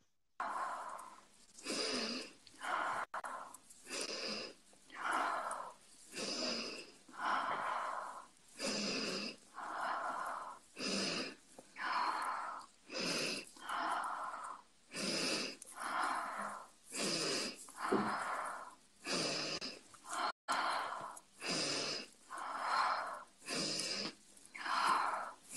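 Heavy rhythmic breathing during a guided breathing exercise in a psychology session, steady cycles of loud breaths in and out, close and alone with no talk.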